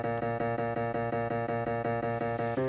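Notes in the My Singing Monsters Composer game, an even run of rapid, evenly pulsed synthetic tones with a brief pitch change in the final moment, no voice present.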